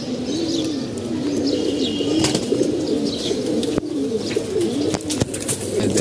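Pigeons at a loft coo steadily nearby while wings flap in short bursts as birds land one after another, with scattered chirps and a few sharp knocks.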